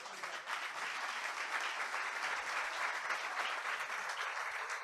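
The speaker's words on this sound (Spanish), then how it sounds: "Denle un aplauso al Señor." Steady applause from a church congregation during a service, dense and sustained for the whole stretch with no voices standing out.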